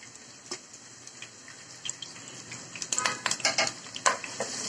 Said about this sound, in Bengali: এখন আমি পেঁয়াজগুলো আর মরিচগুলো দিয়ে দিবো।